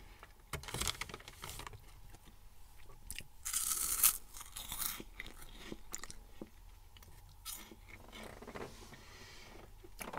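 Crunchy Bamba peanut puffs being chewed up close, with repeated crisp crunches and bites in an irregular rhythm, no talking.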